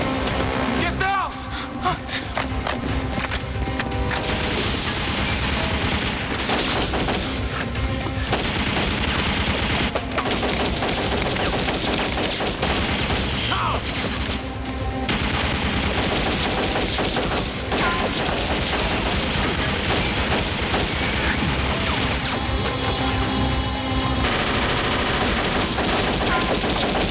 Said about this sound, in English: Gunfire was too heavy.